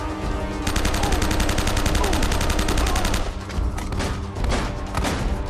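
Rapid gunfire from Navarro in the Uncharted video game, a dense sustained burst of loud shots with music and effects underneath, then a few separate heavier blasts toward the end.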